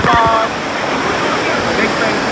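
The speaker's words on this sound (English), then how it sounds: "It's a 600 foot waterfall." A roaring 600-foot waterfall heard from under a bridge, a dense steady rush of falling water, close and loud, with brief voices at the start.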